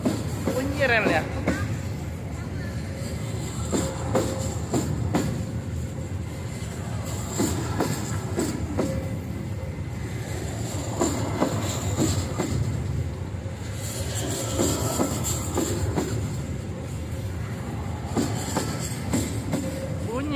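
A passenger train rolls along the rails with a continuous rumble and repeated clickety-clack as the wheels cross rail joints, with some wheel squeal, while people talk over it throughout.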